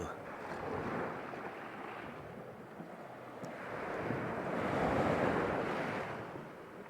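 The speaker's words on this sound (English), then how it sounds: "And the sound of the waves." Ocean waves washing onto a beach in a video game, soft swelling surf that rises and falls in two broad surges, with a windy hiss and faint speech in the background.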